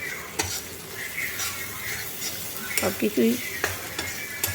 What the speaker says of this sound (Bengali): আদা বাটা দিলে দিয়ে আবার সব একসাথে নেড়ে নিচ্ছি